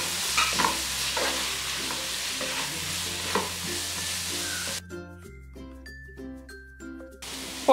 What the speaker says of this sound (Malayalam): ഇതിലേക്ക് എടുത്തു വെച്ചിരിക്കുന്ന പൊടികളെല്ലാം ചേർത്ത് ഒന്നും കൂടി ഇളക്കി കൊടുക്കാം